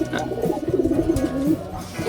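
Racing pigeons coo in a near, loud burst of rolling, warbling calls lasting about two seconds. No talk is heard over them.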